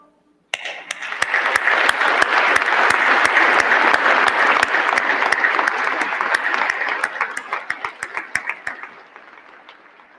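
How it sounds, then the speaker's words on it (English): Loud, sustained applause from a large crowd at a Citadel commencement ceremony, starting abruptly, holding steady for several seconds, then thinning to scattered claps before dying away. "round of applause?"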